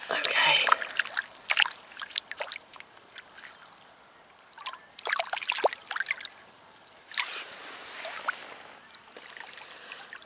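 Water splashing and trickling as an old glass bottle found mudlarking on a Medway island is rinsed outdoors, intermittent close sloshes and drips in a few separate bursts.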